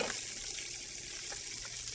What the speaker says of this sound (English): I'm going to start out with just a little bit of water.